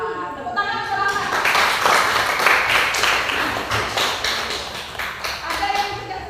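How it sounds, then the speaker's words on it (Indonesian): A classroom of students claps together, a quick burst of overlapping hand claps that swells and then continues unevenly, with some background voices and shuffling mixed in. "Tepuk tangan selamat."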